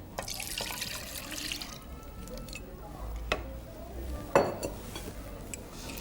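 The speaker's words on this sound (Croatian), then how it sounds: "I sipam ovo vruće mlijeko preko. Vraćam u posudu za kuhanje." Hot milk is poured over and then back into a cooking pot, with splashing liquid and clinks of the pot and utensils, fairly quiet and close.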